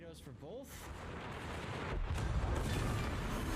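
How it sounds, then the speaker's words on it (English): Secondary battery guns firing in World of Warships naval combat, a dense rumble of repeated booms and shot cracks that builds and grows louder over the second half, with brief tonal game sounds near the start. "And he dies to the Brandenburg to your secondaries"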